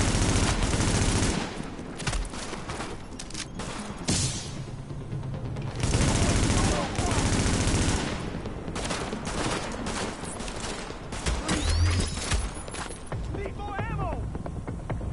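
Dense, rapid gunfire from a third-person shooter game, Tom Clancy's The Division, in a firefight to save Captain Benitez, Jessica Kandel and Paul Rhodes; bursts of automatic fire and scattered shots run throughout, mixed with game effects and occasional voices.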